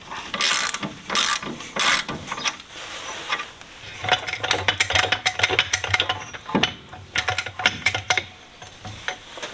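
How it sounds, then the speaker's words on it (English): A breaker bar on an 11/16 socket works a stubborn tie rod end nut on an MGB front suspension, giving bursts of close metallic ratcheting clicks in uneven runs with short pauses between. "Just get it on a breaker bar, try to break it off."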